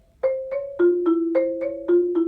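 A mallet percussion passage struck slowly with alternating right-left sticking: about eight clear bell-like notes, evenly spaced and ringing between strikes, close and moderately quiet, with no voices.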